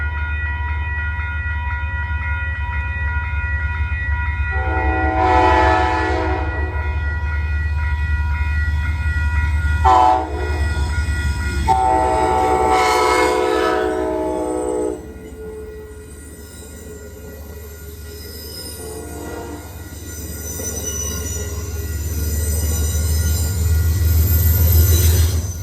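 An Amtrak P42 locomotive leads a passing train at Peekskill, sounding several long blasts of its horn at close range over the steady rumble of the rolling train, with no talk.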